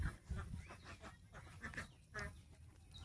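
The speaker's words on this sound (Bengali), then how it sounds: "সব হাঁসগুলো এই যে এখানে চলে এসেছে দেখুন।" A flock of ducks gathers beside a rice paddy during the monsoon transplanting season in a Bengali village, giving faint, scattered honking calls at a distance over low background noise.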